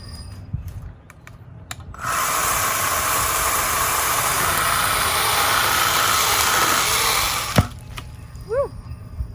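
Litheli 20V cordless pole saw with an 8-inch bar cutting through a tree branch outdoors, a loud steady buzzing drone for about six seconds after a quiet start, ending with a sharp crack and brief rustling.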